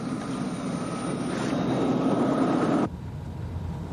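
A helicopter picking someone up in a 1980s TV action drama, a loud, steady rotor and engine roar that builds and then cuts off abruptly near the end, leaving quieter low rumble.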